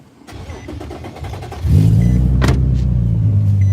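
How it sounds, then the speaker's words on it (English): A car engine cranks with a rapid stuttering whir, then catches and settles into a loud, steady idle close by at an impound lot, with a brief higher whine partway through. "Let me start this car up."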